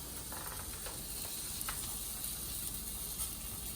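Black bean burger patty frying in a pan, giving a steady, close hiss and sizzle with faint crackles throughout.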